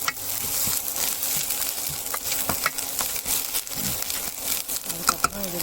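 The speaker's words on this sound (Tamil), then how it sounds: "இஞ்சி பூண்டு பேஸ்ட்டு வதக்கி வச்சுருவேன்." Ginger garlic paste sautés with onions in a pan for kari dosai, giving a steady, close sizzle broken by scraping stirs and soft crackles, with no talking.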